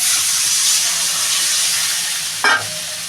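Water is poured into a hot pan of frying food in a home kitchen. A loud, steady sizzle and hiss runs throughout, then a sudden, sharp burst of spitting steam comes near the end. It is close up and has no speech.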